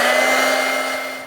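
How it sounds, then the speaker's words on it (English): A heat tool drying paint on a craft piece gives a steady, loud, close blowing whir with a constant hum, running alone without talk. "I'm going to use my heat tool to help dry that"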